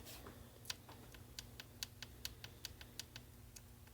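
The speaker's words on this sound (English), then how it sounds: "it's actually making some mechanical clicking noises as it moves back and forth" A loose, unfitted saxophone key rattles on its hinge tube as it is worked back and forth, giving a string of faint, sharp mechanical clicks at an uneven, ticking rhythm.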